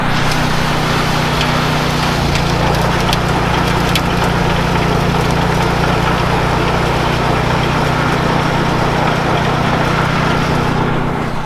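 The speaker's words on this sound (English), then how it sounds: "I'll show you a tree coming through the big baler here." A big Christmas tree baler runs loud and near with a continuous engine drone, while a harvested Fraser fir feeds through amid steady rustling and crackling of branches.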